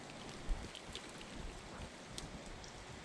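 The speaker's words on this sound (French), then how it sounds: "Si ce n'est de la pluie, putain. Et du vent." Steady rain and gusting wind from a winter storm in Isère, France, a continuous close hiss of falling water with a faint low rumble and a few soft thuds, no voices.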